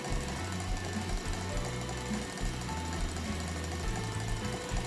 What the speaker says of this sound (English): now I'm going to mix those egg whites, or whisk those egg whites on high for 5 minutes